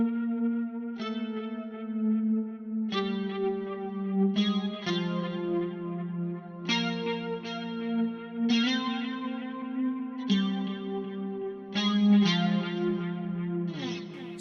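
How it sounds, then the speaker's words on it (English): A clean bass guitar through an Ampeg SBT amp model on a Headrush FX unit plays a slow melodic line of plucked notes, shimmering with chorus and trailing reverb and echo that ring out between notes. "a clean SBT from Ampeg, from my Headrush FX unit, with a touch of chorus and a reverb and delay"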